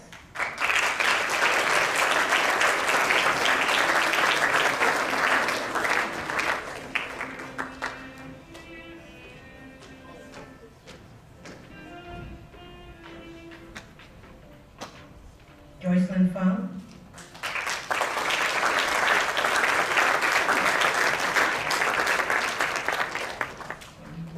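An audience at a middle school ceremony breaks into sustained applause, which fades to a quiet stretch with a few faint voices and then surges back as loud, dense clapping.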